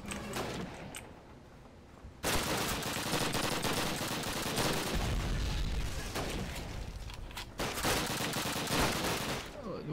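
Dense, sustained gunfire and explosions from the Call of Duty 1 World War II shooter, loud and continuous for most of the stretch with sharp bursts and booms after a quieter opening.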